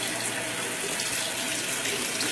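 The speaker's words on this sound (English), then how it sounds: "I'm going to put it under the water." Tap water runs steadily into a sink while something dirty is rinsed beneath it, a constant close splashing hiss with no voices.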